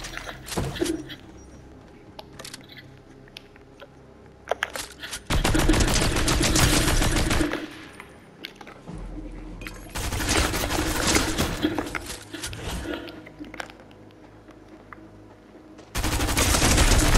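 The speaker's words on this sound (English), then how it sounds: "Combat SMG." A combat SMG firing in the video game Fortnite produces long, dense rapid-fire bursts of about two to three seconds each, loud and close, separated by quieter stretches with scattered clicks and distant shots.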